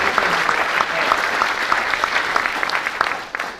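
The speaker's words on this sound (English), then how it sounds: "Can we get a round of applause for that too" A round of applause from the audience at a public meeting, with dense, steady clapping and a few sharp individual claps standing out, tapering off near the end.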